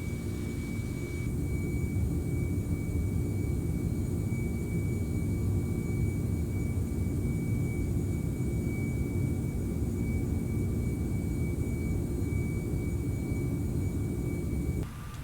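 A Boeing 747-400 goes around in the X-Plane 11 simulator, producing a steady, loud engine roar with a broad rumble and a faint constant whine that holds unchanged throughout.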